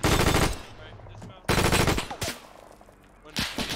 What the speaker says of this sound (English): That's a machine gunner.